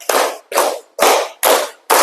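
A class of students clapping their hands together in counted rounds, five loud, sharp bursts of many hands, evenly spaced about half a second apart, close by with no talk over them.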